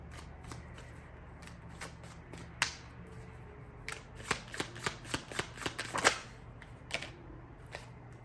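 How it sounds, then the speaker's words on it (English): Oracle cards being shuffled and pulled from a deck: a steady stream of crisp, close-up riffling clicks and snaps, swelling into a denser flurry of sharp card flicks partway through, with no talk. "Let me pull another card on this 9 of Coins."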